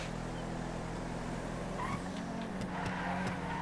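Drift car skidding in the GTA FiveM racing game, a continuous engine drone with faint, intermittent tire squeals over the steady roar.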